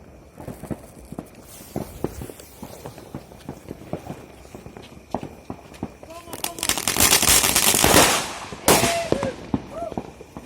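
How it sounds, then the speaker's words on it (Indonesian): Firecrackers set off on New Year's Eve in Tomohon bang in sharp, irregular bursts, with a dense cluster of loud crackling blasts toward the end, while people talk and move around close by. "Ini petasan terakhir dan mari kita menggunakan."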